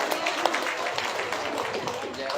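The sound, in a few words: audience applause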